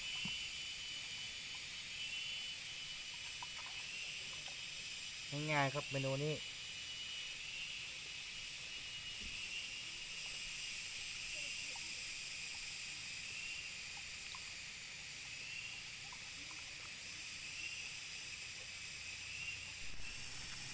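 A steady, low hiss of water boiling in a pot at a campsite runs throughout, with a brief spoken phrase near the start as fish is added.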